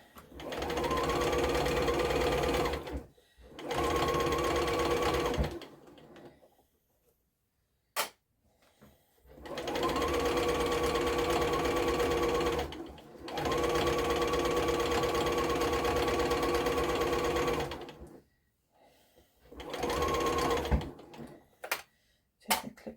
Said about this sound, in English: So this just needs one row of stitching, which is the straight stitch